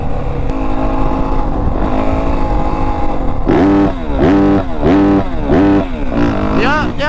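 A 450 dirt bike running a competition ECU with no rev limiter, loud and close: a steady idle, then a run of sharp revs climbing high and falling back in quick bursts.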